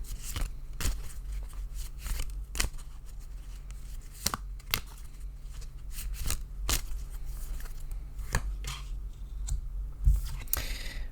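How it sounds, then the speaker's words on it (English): Tarot cards shuffled by hand in a quiet room, with a dozen or so sharp riffling clicks and snaps scattered over a soft continuous rustle, close and fairly faint, with no voices. "So I'm going to shuffle just a bit to give us an opener"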